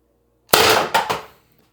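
A Byrna LE launcher firing a 4.6g LLB round gives one sharp, loud crack. A shorter echo-like rattle follows right after and fades quickly into silence, with no talking.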